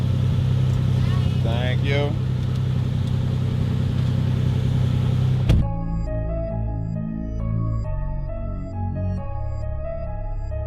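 A Lamborghini Countach idles loudly at a drive-through, its deep rumble heard under brief talk before the sound cuts abruptly halfway and gives way to quieter tonal sounds.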